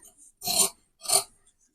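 Scissors cut fabric along a marked V-neck outline, giving two short, crisp snipping swishes close up with no talking.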